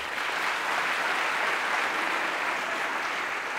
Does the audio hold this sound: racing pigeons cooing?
no